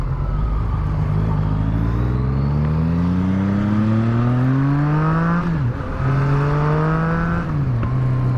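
A 2015 Yamaha MT-09 (FZ-09) motorcycle under way, its engine rising in pitch through strong acceleration, easing briefly between gear changes and pulling hard again, loud and steady with wind noise and no talk.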